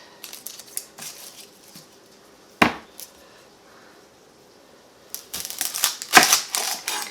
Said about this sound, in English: we are going to just start chopping up the onion to start with